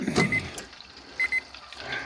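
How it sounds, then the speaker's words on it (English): A few short electronic beeps from a kitchen thermometer alarm sound in a small cluster, fairly quiet against a faint room background, with a brief clatter at the start, while frying a turkey. "Turn the alarm off."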